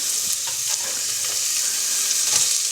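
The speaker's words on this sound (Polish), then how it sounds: "wrzucam na oliwę cebulkę" Chopped red onion sizzles steadily in hot olive oil in a pan, a close, continuous frying hiss with faint crackles and no talk over it.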